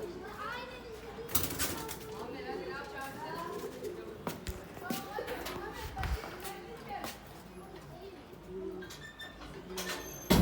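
Pigeons coo softly on a balcony over a busy background of scattered knocks and bumps. A person talks at times, and a few sharp clatters cut in.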